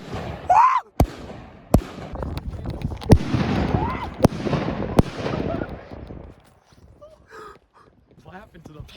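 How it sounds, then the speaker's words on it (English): Three mortar shells taped inside a Pac-Man figure detonate in a string of loud, sharp firework bangs, about six cracks spaced roughly a second apart over a rumbling burst, with voices talking at the start and afterward. "we're stuffing 3 mortar shells inside this Pac-Man and making a grenade"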